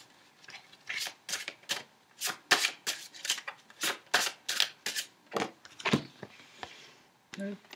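Tarot cards are shuffled and drawn in a quick run of about fifteen crisp slapping riffles, each loud and close. Near the end they slow into a few softer flicks.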